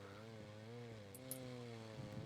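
A saw running in the video game R.E.P.O., a steady buzzing motor drone with harmonic whine held throughout, loud and continuous with no talk over it.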